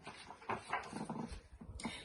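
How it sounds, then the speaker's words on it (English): A small dog gives soft, muffled woofs and snuffly noises during a bedtime story reading, fairly faint and close, with no clear talking over it. "he steered himself towards it and landed with a woof"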